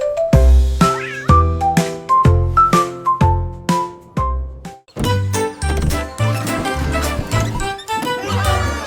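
Cat meows ring out as a run of loud, melodic notes in a French children's nursery song, each followed quickly by the next, with light jingling accents among them.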